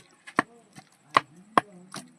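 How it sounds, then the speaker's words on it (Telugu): A pestle pounds green chilli chutney in a stone mortar, landing several dull, close strikes at a slightly uneven pace, with faint scraping and softer taps between the louder blows. "పచ్చిమిరకాయ పచ్చడిని రాళ్ళగుంట్లో వేసి బాగా మెదివేసినది"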